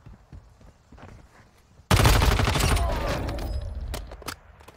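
Gunfire in the mobile video game Warzone Mobile starts suddenly after a quiet stretch, as a loud, continuous burst of rapid shots that tails off into scattered sharp cracks.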